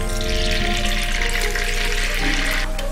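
Green onions fry in plenty of oil for scallion oil, a loud continuous bubbling sizzle heard close up with no speech.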